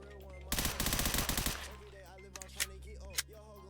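Rapid automatic fire from an SDM9 gun in the Roblox game Chicago Remastered, a dense loud burst of shots lasting about a second, followed by a few scattered clicks and thumps.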